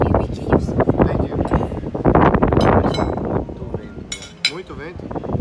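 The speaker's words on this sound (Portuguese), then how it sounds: "Muito vento." Strong wind buffets a microphone outdoors at a breakfast table in Thailand, giving a loud, steady low rumble that runs through the whole stretch beneath chattering voices and a few light clinks of dishes.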